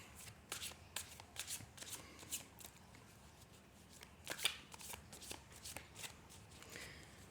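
Tarot cards are shuffled and dealt out close by, in quiet soft riffles and light slaps of the cards coming at an irregular pace, with no talking.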